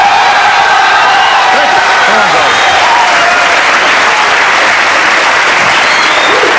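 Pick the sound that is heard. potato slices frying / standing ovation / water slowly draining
standing ovation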